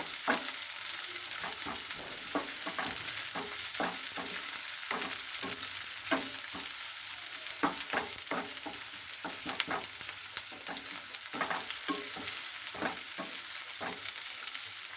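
Chopped onions fry in oil and are stirred until browned for a chicken curry. A busy sizzle runs under frequent, rhythmic spatula scrapes and taps against the pan, close and steady throughout.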